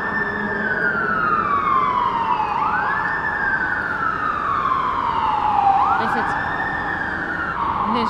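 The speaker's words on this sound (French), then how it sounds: "les joies de la vie en ville, c'est que vous entendez les pompiers et la police régulièrement" Wailing emergency sirens from fire engines and police cars in a city street, rising and falling in long sweeping cycles, loud and steady over continuous traffic rumble with no talk.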